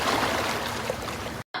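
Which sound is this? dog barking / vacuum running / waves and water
waves and water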